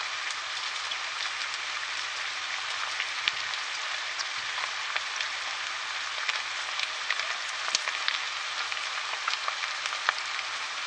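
Mushrooms and garlic sautéing in a pan, a steady dense sizzle and crackle with scattered louder pops, close and continuous throughout with no talking.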